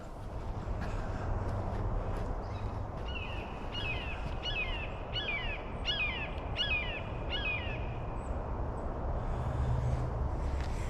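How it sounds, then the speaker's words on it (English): A hawk calls repeatedly in a wooded riverside park, a series of sharp descending cries spaced about half a second apart over steady outdoor ambience, moderately distant. "I hear a hawk."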